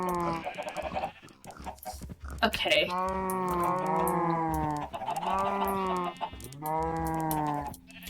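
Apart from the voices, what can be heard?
chickens and farm animals in a video game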